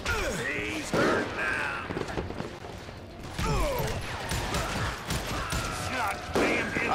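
Gunshots in the Western shooter game Call of Juarez Gunslinger, with several sharp shots and clattering impacts over game sounds and voices, loud and close.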